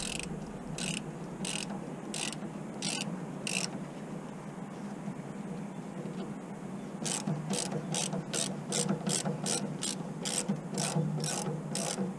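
A worn ratchet works on a worm drive clip screw while a fuel tank comes off a 1998 Dennis Dart bus: rapid metallic clicking bursts, first a few spaced strokes, then a faster run of about a dozen close, loud strokes.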